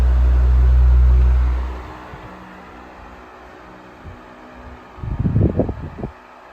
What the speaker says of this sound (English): Beautifully running fan.